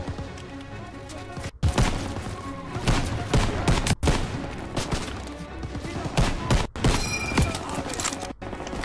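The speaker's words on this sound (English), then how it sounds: "MGs are tearing us off upstairs!" Machine gun fire in Call of Duty WW2 during a farm mission: sustained rapid bursts of loud, close gunfire with sharp breaks between volleys, layered over battle noise and a faint voice.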